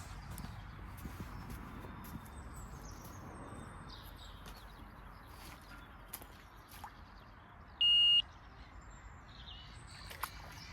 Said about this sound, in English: So you might hear the odd bleat where I take the line off the buzzer